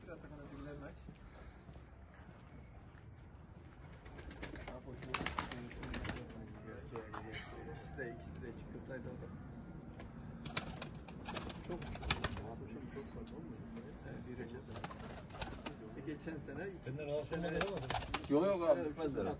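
Domestic pigeons kept as Turkish play birds coo softly while on the ground, low murmuring calls with a few bursts of wing flapping, quiet and close, under someone talking.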